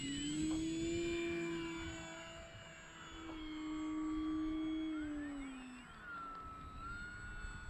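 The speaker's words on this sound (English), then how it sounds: "Great flying plane." E-flite Maule M-7 RC model airplane flying overhead, a faint steady electric motor whine that swells and fades as it passes, with no talk.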